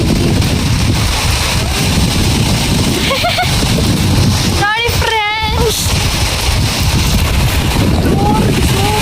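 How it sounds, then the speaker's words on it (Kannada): Heavy rain falling in Bengaluru, a loud, unbroken hiss of downpour with wind buffeting the microphone, while someone talks briefly over it. "ಮಳೆ ಬರ್ತದೆ"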